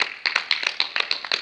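A small group claps together through a French comedy sketch about a carrier, the hand claps sharp, close and regular, about six or seven quick bursts with no one talking over them.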